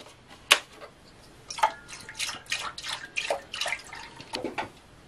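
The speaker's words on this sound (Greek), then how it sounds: "θα ρίξουμε 5 λίτρα γάλα" Cold milk, five litres, pours into a pot already holding water and citric acid, heard as uneven splashing and gurgling bursts close by without talk.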